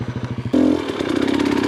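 An enduro motorcycle riding down a hill opens with a rhythmic idling putter, then a sudden loud rev into a rough, rattling engine roar with clatter from the terrain, close to the microphone.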